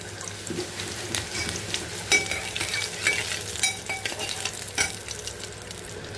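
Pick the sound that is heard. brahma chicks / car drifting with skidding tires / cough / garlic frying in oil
garlic frying in oil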